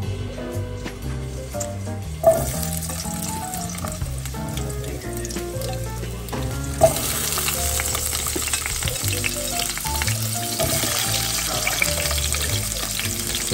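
Spareribs for adobo sautéing in a pan until browned, a steady frying sizzle with stirring scrapes, and music playing throughout.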